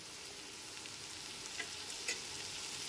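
Chopped onion and eight finely minced garlic cloves frying in a pan over medium heat, giving a steady, close sizzle with a couple of brief louder crackles.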